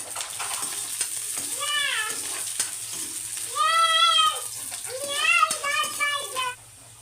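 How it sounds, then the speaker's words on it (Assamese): Onions fry in a pan with a steady, soft sizzle running beneath a woman's speech throughout. "পিঁয়াজখিনি ধুনীয়াকৈ ভজা হৈ গ'ল।"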